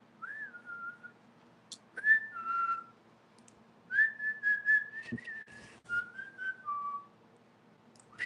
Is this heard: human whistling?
yes